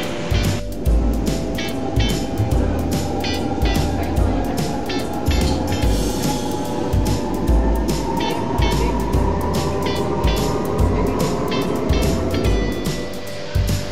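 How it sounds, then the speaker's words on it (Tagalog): A ride aboard the MRT train in Manila, with a steady rumbling rail drone and rhythmic clatter throughout, a rising whine building in the middle, and voices talking in the carriage. "First time niya mag-MRT."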